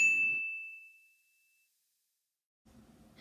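A single clear bell-like ding rings out and decays slowly into silence, followed after a pause by faint background noise.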